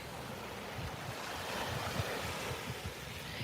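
Ocean waves and wind by the water, a steady roar of surf with gusting wind buffeting the microphone, constant and fairly loud throughout with no voices.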